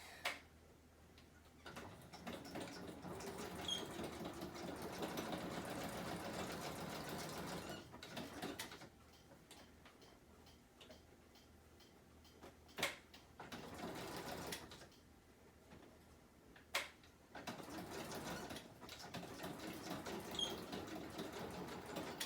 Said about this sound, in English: I'm just going to run a quick zigzag across those fabrics.